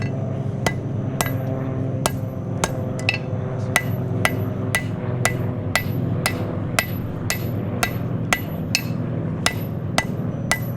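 Steady, evenly spaced hammer blows ring out on metal while forging a knife tip, about two per second, sharp and close, over a constant low hum of background machinery.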